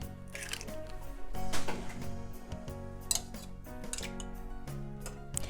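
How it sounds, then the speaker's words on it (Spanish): Eggs cracked one at a time into a bowl for a chocolate tres leches Christmas cake: a series of sharp taps and clicks against the bowl, with light shell crackles and drips between them, close by and fairly quiet. "Casca los huevos de uno por uno y los pones en el tazón."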